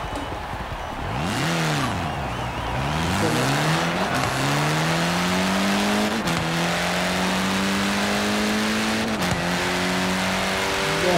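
Engine of a 2021 Honda Civic Type R in a racing video game played on a Logitech G29 wheel, revving up and down through repeated gear shifts, a loud, steady rising whine with sharp dips at each shift.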